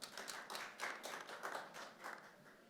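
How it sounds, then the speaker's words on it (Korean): An audience applauds in thanks for a Catholic bishop from the Seoul Archdiocese at a campaign talk concert, clapping in soft repeated waves throughout, moderately distant in the hall. "감사의 박수를 부탁드립니다."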